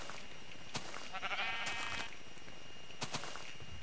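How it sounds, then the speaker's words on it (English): A Minecraft sheep bleats once in a wavering, nasal call near the middle, framed by a few short clicks from the game, fairly quiet against a low background. "What the hell is that? Sheep."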